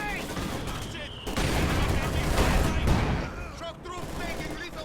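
Bunker gunfire from base defenses in Company of Heroes, a dense rattle of automatic shots and bursts mixed with battle noise, with a commentator talking over it.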